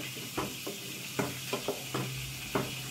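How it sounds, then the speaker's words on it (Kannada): Masala for Afghani chicken fries on medium flame, sizzling steadily in the pan while a spoon stirs it in soft scraping strokes every half second or so, close by with a low hum underneath and no talk. "ಇದನ್ನೀಗ ಮೀಡಿಯಮ್ ಫ್ಲೇಮಲ್ಲಿ ಕುಕ್ ಮಾಡಬೇಕಲ್ಲ, ಅದು ಮಸಾಲೆದ್ದು ಹಸಿ ವಾಸನೆ ಹೋಗೋವರೆಗೆ"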